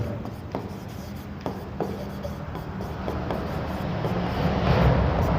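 Chalk scratches across a classroom board during a maths lesson on height and distance, close rhythmic strokes and taps repeating over steady room noise with no talk.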